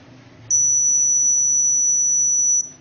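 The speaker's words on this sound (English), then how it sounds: "You might have heard the buzzer" A quality-testing hardware system's electronic buzzer sounds one steady, loud, high-pitched continuous tone lasting about two seconds over a faint background hum, then cuts off abruptly.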